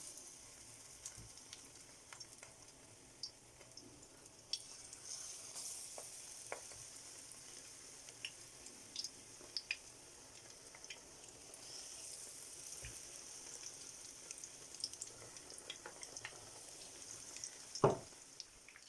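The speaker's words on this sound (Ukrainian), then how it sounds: "та викладаю на сковорідку." Batter-dipped eggplant slices sizzle quietly in a frying pan, a soft steady crackle broken by occasional sharper pops and a louder clatter near the end.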